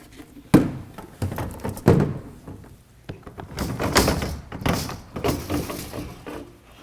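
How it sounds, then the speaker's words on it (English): The door comes off an AprilAire 5000 air cleaner and the filter slides out: a sharp thunk, then a series of knocks, scrapes and sliding rustles of the panel and filter, close and irregular. "we're going to take the door off, slide the filter out."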